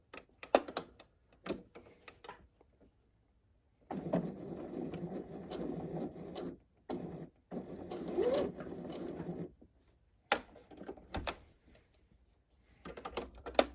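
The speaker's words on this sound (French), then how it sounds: "je couds là tout le long de mon pied presseur" A domestic sewing machine stitches in several bursts, topstitching along the presser foot on a jogging trouser pocket, with short pauses and clicks between runs of fast mechanical whirring, close and fairly quiet.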